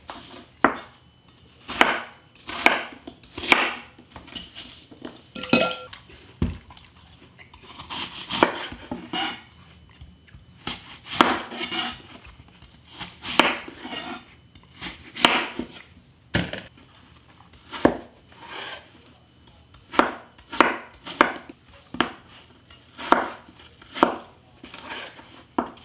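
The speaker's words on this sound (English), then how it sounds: "So now I'm going to cut my apples" Knife chopping apples into chunks on a cutting board, crisp repeated thuds in irregular bursts, close and loud with no talking.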